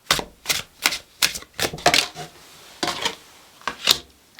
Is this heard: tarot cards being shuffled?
yes